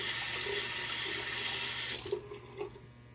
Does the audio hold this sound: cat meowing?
no